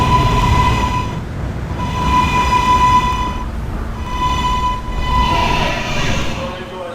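A K subway train rides between stations, with a steady loud rumble of wheels on track and a sustained tonal whine that fades in and out in long swells under the running noise, without any voices.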